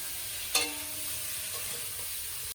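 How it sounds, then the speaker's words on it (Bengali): Cauliflower and potato sauté in a pan with a steady, close sizzle and a brief stirring clatter near the start, continuing without speech. "ফুলকপি আলুটা এই কষিয়ে নিচ্ছি"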